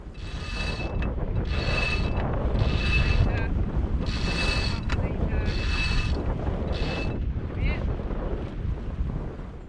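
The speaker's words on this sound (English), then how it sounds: "For the hoist, one of us feeds the spinnaker out while the other pulls on the halyard." The halyard being hauled hand over hand to hoist a spinnaker in its sock on a sailing yacht, with about six rhythmic rasping pulls of rope through a block over steady wind noise.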